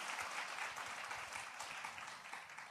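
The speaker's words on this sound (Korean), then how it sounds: "참 잘했다고 박수 한번 해주세요." A church congregation applauding during an early-morning worship service, a soft, steady, even patter of many hands clapping at a distance.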